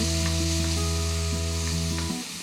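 Minced garlic and onion sizzle steadily in a hot pan, a bright continuous frying crackle with a low hum underneath, stirred now and then, before the sound cuts off abruptly near the end.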